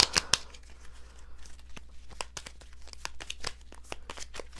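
Rapid papery riffling and snapping of cards, a burst of crisp clicks followed by scattered flicks and taps, close up with no talking.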